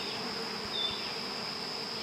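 Honey bees swarm thickly around an open beehive, a steady dense buzzing hum close by with no pauses and no voices.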